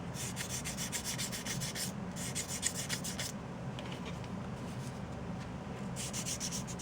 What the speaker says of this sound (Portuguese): Agora que eu já lixei aqui